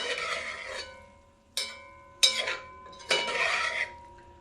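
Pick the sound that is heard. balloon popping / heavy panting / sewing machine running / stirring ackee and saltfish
stirring ackee and saltfish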